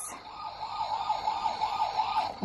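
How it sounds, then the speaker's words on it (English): A toy ambulance siren wails with a steady two-tone electronic warble, loud and close, playing alone from start to finish. "I think he's got an ambulance"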